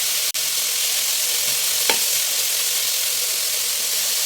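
Onion and garlic sauté in oil in a pan with a steady, broadband sizzle. A single clack of the utensil sounds near the start, and a brief stirring scrape follows, with no talk.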